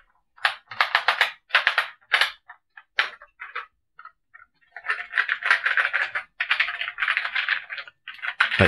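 Keys clacking on an Atari 520 ST computer keyboard: quick bursts of close, crisp presses, a pause mid-way, then a longer steady run of typing, loud and alone.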